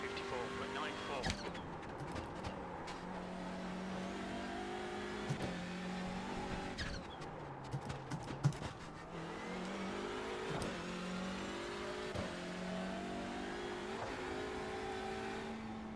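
Hyundai race car in the iRacing sim at Knockhill circuit, engine droning steadily with repeated revs and gear changes over sixteen seconds, loud and continuous, with brief sharper bursts.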